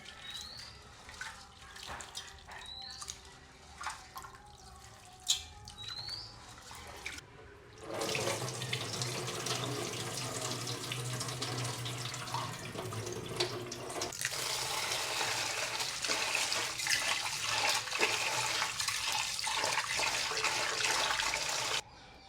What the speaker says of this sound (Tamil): இப்போ நாங்கள் 3 தண்ணியில் நல்ல வடிவாக அரிசியை கழுவிட்டோம்.